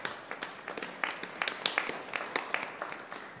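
A church congregation at a Sunday service in Tempe claps together, a moderately distant, scattered burst of applause with irregular individual claps sustained for several seconds.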